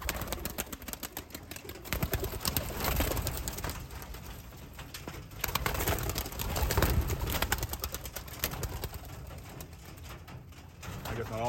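Pigeons cooing and fluttering as they are released from a drop trap, with soft wing flaps and scuffling throughout at low level.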